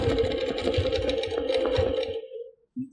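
A sewing machine runs steadily while stitching fabric for a Baptist Fans quilt, a dense, continuous mechanical whir for about two seconds that stops abruptly, followed by a brief soft click.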